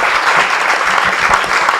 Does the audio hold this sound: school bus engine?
no